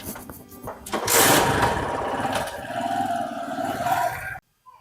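A motorcycle engine revs and drones past on a village road, rising sharply then holding a buzzing whine before cutting off abruptly near the end.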